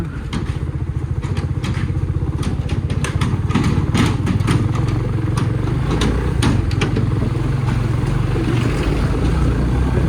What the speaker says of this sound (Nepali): चियाको ट्र्याक्टर रहेछ।